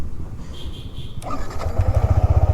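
A Yamaha R15 V4 motorcycle is started with a push button: a brief starter whir, then the single-cylinder engine catches and settles into a loud, close, throbbing idle.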